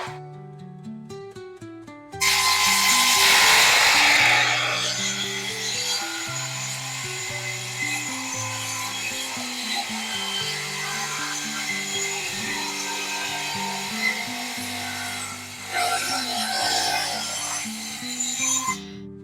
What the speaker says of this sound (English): I'm going to run this board, referencing this, against the table saw, and you'll see I come out with a dead straight edge.